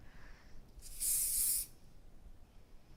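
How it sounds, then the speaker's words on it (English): A short burst of hairspray misted onto hair, one steady aerosol hiss lasting about half a second over a quiet room, close and fairly loud, with no one talking. "I only need a light mist of hairspray"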